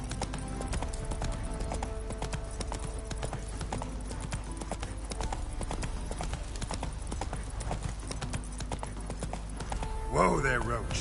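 In The Witcher 3, the horse Roach clip-clops at a steady rhythmic pace across the ground, loud and continuous over game ambience, with a brief whinny-like sweep near the end.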